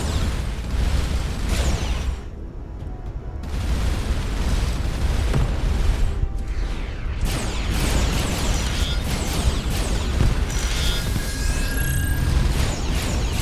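Mark II plasma cannons fire in the space game Starcom: Unknown Space, a dense run of loud booming bursts and blasts that overlap almost without pause over a rumbling low end for the whole stretch.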